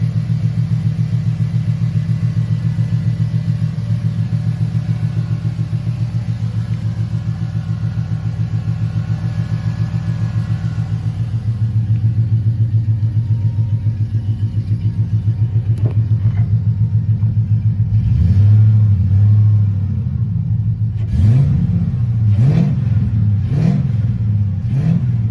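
A 1972 Buick Skylark Custom Coupe 2D idles with a deep, steady rumble, then blips its engine in several loud revs near the end, heard close and alone.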